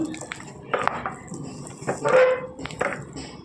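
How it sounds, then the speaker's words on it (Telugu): A dal masher works cooked ragi in a metal pot, making irregular scraping and clinking knocks in short bursts, close and moderately loud, with no voices over them. "ఇలా మెత్తగా మెదుపుకోవాలండి పప్పు గుత్తితో"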